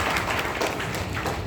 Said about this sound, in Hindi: परमात्मा के लिए जोरदार ताली हो सकती है प्लीज?